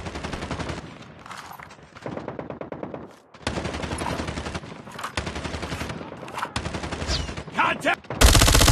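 An FFAR 1 rifle fires in a video game in loud, sustained automatic bursts separated by short pauses, ending in a harsh blast of noise.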